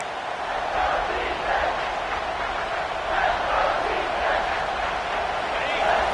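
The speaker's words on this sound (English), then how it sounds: "Decibels rising as the crowd gets behind this defense on 3rd down." Football stadium crowd on third down produces a loud, continuous roar that swells and holds throughout.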